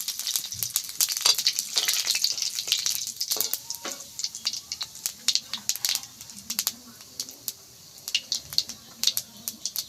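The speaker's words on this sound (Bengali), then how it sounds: "তেজপাতা তেলে দিলাম।" Dried chillies, cumin and bay leaves sizzling in hot oil for a mixed-vegetable dal, a bright crackling fry that settles into scattered pops and spatters, with a voice talking over it.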